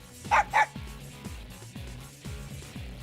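Two quick, sharp dog barks from the fighting game Persona 4 Arena Ultimax ring out close and loud near the start, then give way to soft rhythmic background music with no further barking.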